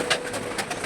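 Pet pigeons in a coop, one brooding eggs, give a soft rhythmic cooing in several repeated pulses, close by and steady, with no voices.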